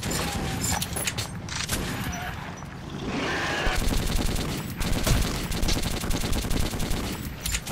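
Rapid automatic gunfire from a weapon in the post-apocalyptic shooter Metro 2033, loud, dense bursts of shots running almost continuously with brief pauses, the cracks stacked close together in the foreground.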